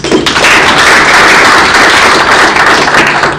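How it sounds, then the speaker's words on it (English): A hall audience at an apparel and footwear industry launch event in Kenya claps steadily, a dense, loud, even wash of many hands sustained throughout without voices. "can we offer a hearty clap to our media partners?"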